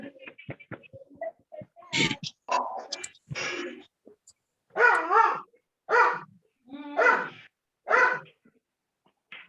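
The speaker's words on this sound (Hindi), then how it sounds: "कुत्ता भौंक रहा कहीं पे, चुप करा ले" A dog barks in a run of loud, close, separate barks and yips, with short pauses between them, after a burst of shorter sounds at the start.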